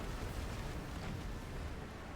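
Cannons fire in the action video game Kingdom Hearts 3, heard as a dense rumbling barrage of booms that merge into a continuous roar, loud and close with no clear gaps.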